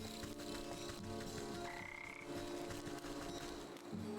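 A frog croaks in Wytchwood, its rhythmic, repeated croaks sitting close and steady over a soft game ambience.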